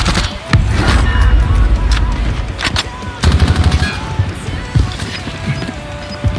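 Rapid automatic gunfire and heavy impacts in a video game, loud and near, with bursts and crashes repeating throughout while players talk over the shooting.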